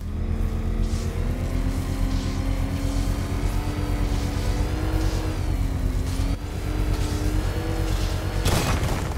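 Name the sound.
engine revving in Batman: Arkham Knight video game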